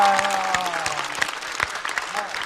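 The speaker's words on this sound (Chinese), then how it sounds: "再次掌声送给小静。" Sustained applause from a stand-up comedy show audience, a dense, steady wash of clapping across the whole stretch, with a voice speaking over it.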